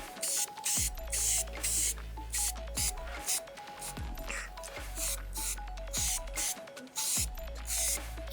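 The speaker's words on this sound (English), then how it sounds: "we are going to hit these with some paint now that they are primed" Bursts of spray paint in Ford blue hiss over primed car parts in repeated short passes, close and fairly loud, with a low steady hum underneath and small clicks between sprays.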